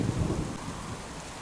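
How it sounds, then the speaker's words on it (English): Rain falling outside in a survival video game, heard as a steady dense hiss with a low rumble beneath it, continuous and fairly close, no other sounds over it. "obviously, guys, it is raining outside"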